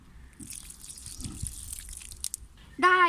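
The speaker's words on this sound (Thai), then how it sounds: "เดี๋ยวจะต้องมาล้างน้ำแต่ละดอกก่อนนะ" Artichoke flowers rinsed under running water, with a light trickle and scattered drips and splashes at close range, a few soft handling bumps, and a brief sharp clatter near the end.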